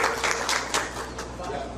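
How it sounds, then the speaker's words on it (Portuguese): Audience at a folklore festival masters' gathering gives a brief round of applause, steady clapping filling the room while voices murmur underneath. "E eu peço a salva de palmas ao pessoal que chegou agora também"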